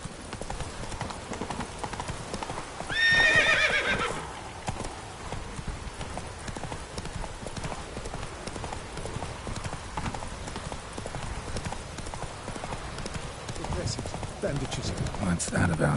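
Horse hooves clip-clop at a gallop in the fantasy role-playing game The Witcher 3, a steady rhythmic beat under game ambience, with a brief horse whinny early on and a voice speaking.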